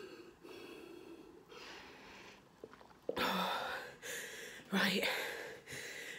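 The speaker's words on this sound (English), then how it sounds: "Oh, excuse that sniff." During a break in a home workout, a sharp nasal sniff cuts through heavy, audible breathing, with a few loud inhales and exhales close to the microphone.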